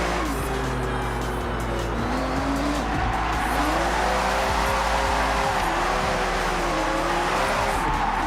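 Drift car in Forza Horizon 6 revving with tire squeal and skidding, a steady loud engine drone with shifting pitch sweeps running throughout.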